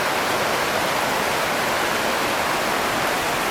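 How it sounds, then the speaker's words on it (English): Spring water at Rick's Spring gushing out of a mountain cave beside a road, a loud, steady broadband rush of falling water heard close with no pauses. "there's this really cool cave with water coming out of it"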